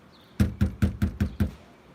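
Six sharp, evenly spaced knocks on a door, close and fairly loud, with no voices.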